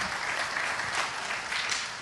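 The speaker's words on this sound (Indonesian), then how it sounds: "Tepuk tangan buat multimedianya" A church congregation claps for the multimedia team, a dense, steady wash of applause filling the room for about two seconds with no talking.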